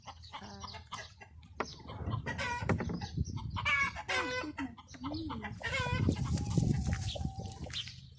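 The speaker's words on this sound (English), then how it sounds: "This is one of our 2 hen houses." Hens clucking inside a crowded garden hen house, several birds calling over one another in overlapping bursts close by, with a rooster-like crow in the mix and no voices.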